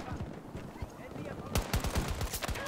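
A submachine gun in Battlefield 2042 fires in quick rapid bursts, some distant shots first and then a louder close rattle of sharp cracks in the last second, with someone talking underneath.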